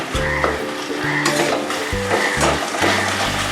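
Sponge gourd goes into hot frying masala in a pan for a Bengali dhudhul chingri dish, giving a close, loud sizzle broken by repeated scraping strokes of stirring.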